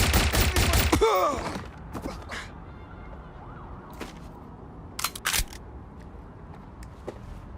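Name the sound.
gunfire in the video game Watch Dogs Legion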